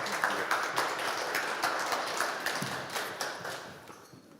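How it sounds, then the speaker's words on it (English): A crowd applauding, a dense wash of clapping that holds steady and then begins to fade toward the end. "If you'd like to give them a round of applause."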